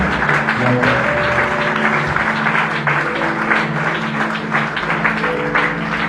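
A church congregation claps steadily and loudly throughout, dense rhythmic applause mixed with a sustained musical backing and faint voices, with no pause or break.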